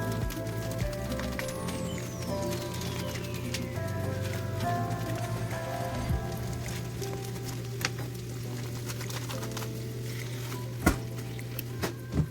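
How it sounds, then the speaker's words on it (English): Pork hitting a hot pan of oil and peppers, a steady sizzle and fry running throughout with occasional clinks of a utensil against the pan. "Then add the pork in the pan."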